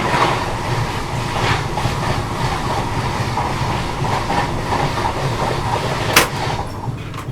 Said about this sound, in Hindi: अपनी ट्रेन को फिर से जो है मेन लाइन पे ले लिया। अब चलो अब थोड़ी भागेगी बढ़िया से।